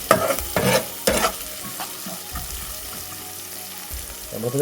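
Crushed garlic sizzles in a hot pan while a spoon knocks and scrapes several times at the start, then a softer steady frying hiss continues without talk.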